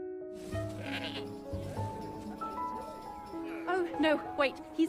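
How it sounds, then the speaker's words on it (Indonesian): A royal goat bleats several times, loud and close, its wavering cries rising and falling amid other animal calls and background music, with a voice talking briefly. "nggak sengaja melepaskan kambing kerajaan yang akhirnya memilih sebuah pohon yang sangat kecil"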